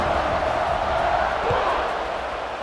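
A steady, loud roar from a stadium crowd in EA Sports College Football 26, before a kickoff, a dense wash of cheering that holds constant beneath a commentator's voice.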